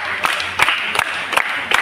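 Audience at a Navrang Sahitya Sangeet Kala Pratishthan RJ and anchor training event giving a welcome with steady clapping throughout, broad and continuous with small swells, fairly close.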